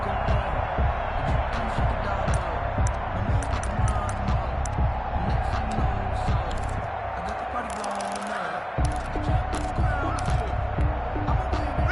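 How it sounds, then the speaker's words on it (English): Stadium crowd roar from an American football video game on PS4, a steady loud wash of cheering and babble that swells ahead of a third-and-goal play, with rhythmic thumps running throughout. "That just means this crowd's going to get even louder"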